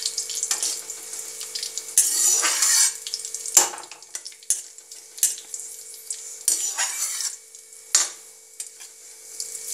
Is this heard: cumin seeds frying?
yes